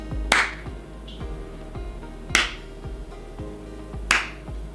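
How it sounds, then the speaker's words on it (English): Three single hand claps for an audio sync test are spaced about two seconds apart. Each clap is loud, crisp and close, with a quick decay in a quiet room. "let's do a clap test"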